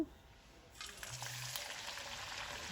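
Small puris frying in hot oil for masala puri, a soft, steady bubbling sizzle that swells after a quiet start and carries on evenly, close but fairly faint, with no talk.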